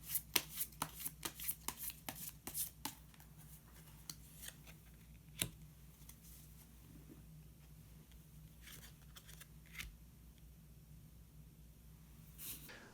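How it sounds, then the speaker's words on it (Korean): Tarot color cards are shuffled and drawn, a quick run of crisp papery flicks and snaps in the first few seconds, then sparser card taps and slides over a quiet room hum. "마지막으로 색깔로 알아보는 컬러 카드 한 장 더 뽑아보도록 하겠습니다"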